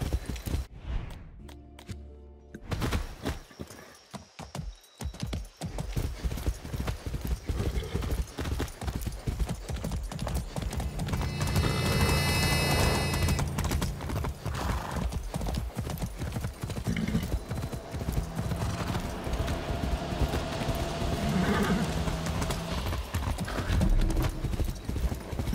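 Steady clip-clop of horse hooves walking at an even pace in the video game Far Cry 6, with a whinny partway through and a low continuous background rumble.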